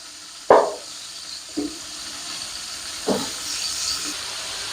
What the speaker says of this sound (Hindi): और अब हम इसमें शामिल कर देंगे हमारा जो पाया था बड़ा, उसको इस तरीके से, और उसको भी हल्का सा आपने फ्राई कर लेना